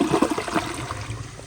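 A 2008 Jacuzzi Espree toilet flushes with a loud rushing gush of water that quickly settles into a steady, fainter trickle as the bowl refills, heard close and alone.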